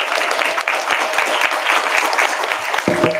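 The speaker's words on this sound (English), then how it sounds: "Let's give ourselves a round of applause." Audience applause at a boxing weigh-in, dense steady clapping from a crowd filling the room, with a brief tonal sound near the end.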